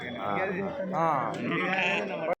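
Sheep bleat at a busy livestock market, quivering calls rising and falling close by while someone talks over them, the sound cutting off abruptly at the end.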